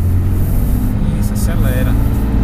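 A Dodge 2500 Cummins diesel truck engine runs with a loud, heavy low rumble that holds steady close by, while a voice speaks briefly over it.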